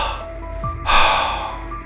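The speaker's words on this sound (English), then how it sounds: "Then a long, heavy sigh followed," A long, heavy sigh with laboured breathing in a hushed horror-story setting: a short catch of breath, then a broad breathy exhale swelling and fading, close and fairly quiet.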